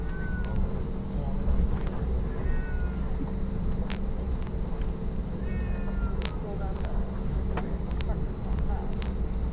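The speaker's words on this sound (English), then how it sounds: "Did y'all hear that cat?" A cat that escaped from a carrier bag meows several times in short, faint cries over a steady background rumble at an Arizona airport, with occasional voices nearby.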